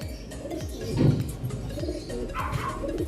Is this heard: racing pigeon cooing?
yes